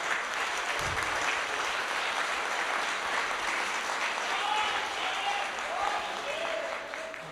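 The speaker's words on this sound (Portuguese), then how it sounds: "Uma salva de palmas para Jesus." Church congregation applauding steadily through a service, a dense wash of clapping at moderate distance, with faint voices and a brief sung or spoken tone near the end.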